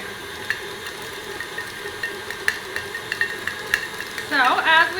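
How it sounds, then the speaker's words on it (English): An electric mixer creams butter for a tres leches cake batter, a steady whirring motor hum with light rhythmic clicks of beaters against the bowl, swelling into a busier churn near the end. "Creaming the butter, that's what we call it"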